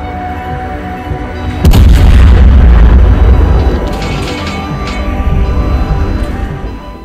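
Main gun salvos from the German cruiser Roon boom in a World of Warships naval battle, one heavy, loud blast followed by a rumbling tail and smaller distant reports.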